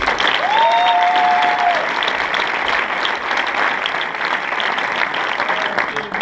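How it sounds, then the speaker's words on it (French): A roomful of people at an association meeting applauds the secretary Julie with loud, steady clapping, and a brief whistle rises over it near the start. "je vous demande d'applaudir Julie."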